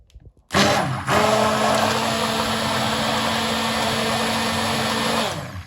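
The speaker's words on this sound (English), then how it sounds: "we're gonna go ahead and grab our immersion blender, and we're gonna start to mix this." An immersion blender whirs inside a crock pot of soap mixture after a short bump, running as a loud, steady motor hum with a slight pitch shift for several seconds before cutting off.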